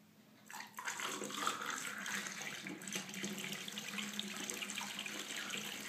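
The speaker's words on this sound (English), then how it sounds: "Now pour water over it." Water pours steadily from about half a second in, filling a glass with an egg resting inside it; a continuous close splashing gush runs unbroken to the end with no voices.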